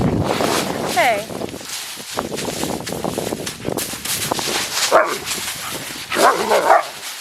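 A puppy barks and yips in short bursts outdoors at a garden cottage, near and fairly loud, mixed with people talking and some wind.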